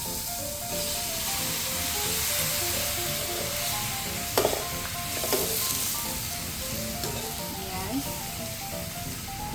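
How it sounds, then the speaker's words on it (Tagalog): Shrimp hit a hot pan of red curry with a steady, bright sizzle that holds for several seconds, with a couple of brief clinks and stirring sounds and a short spoken word from the cook. "Tapos nito, lagay na rin natin yung ating hipon."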